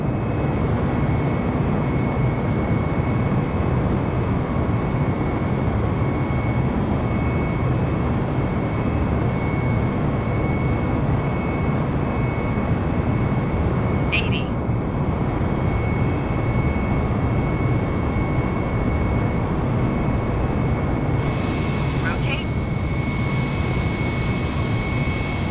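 Airbus A320neo jet engines roar steadily at takeoff power in Microsoft Flight Simulator, a dense continuous rumble that holds for the whole stretch, with a brief click partway through and a rise in high hiss near the end.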